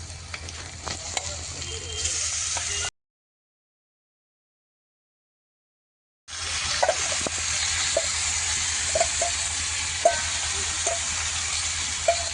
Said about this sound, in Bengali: এখন এগুলো ভালোভাবে নাড়াচাড়া করে আর একটু লাল লাল করে ভেজে নিয়ে আর দিয়ে দেবো মশলা মাখানো মাংসটা।